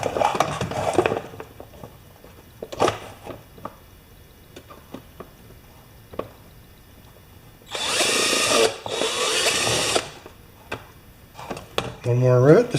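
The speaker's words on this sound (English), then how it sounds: "Okay, one more hole to drill." A power drill whirs in two close bursts of a couple of seconds each, drilling holes for rivets, amid scattered clicks and handling noises.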